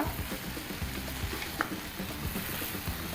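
Ginger, garlic and green chillies frying with boiled egg boti in a pan for a dry country-style dish, a steady close sizzle with soft stirring scrapes and one brief sharper clink.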